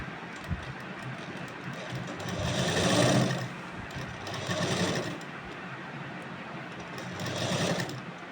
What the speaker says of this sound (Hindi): यहाँ से हम सिलाई लगाएंगे।